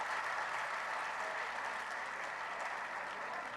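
Steady, full applause from a live audience at a poetry session during a literary festival in Faisalabad, a continuous dense wash of clapping that holds at the same level throughout.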